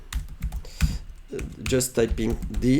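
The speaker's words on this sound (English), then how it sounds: "just typing" Quick bursts of computer keyboard typing while entering math shortcuts in an editor, close and fairly quiet, with clicks clustered between and under a man's speech.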